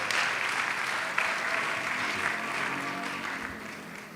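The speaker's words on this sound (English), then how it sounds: "Warm applause for our guests." An audience at an international architecture festival session applauds steadily, a broad wash of clapping that swells briefly near the start and then slowly thins.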